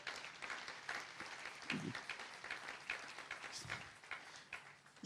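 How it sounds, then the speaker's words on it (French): A church congregation applauds in a sustained, fairly quiet wash of clapping that stays steady for several seconds, with no talking over it. "Est-ce qu'on peut acclamer la parole de Dieu?"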